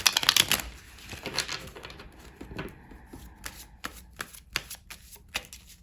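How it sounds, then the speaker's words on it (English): Tarot cards being shuffled up close: crisp riffling bursts at first, then scattered soft slaps and flicks of the deck, with no talking. "let's pick some more tarot cards to support this message"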